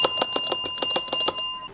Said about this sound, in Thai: กดกระดิ่งตรงนี้เพื่อสั่งเมนู